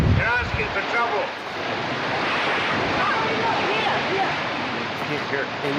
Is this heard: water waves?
yes